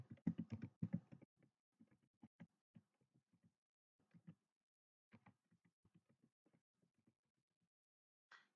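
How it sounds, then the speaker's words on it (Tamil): Typing on a computer keyboard while filling in an online RTI application form, heard as bursts of quick, close key clicks, dense at first and then sparser and irregular, with no talking. "என்னுடைய மொபைல் நம்பரை டைப் பண்ணிக்கிடுதேன்"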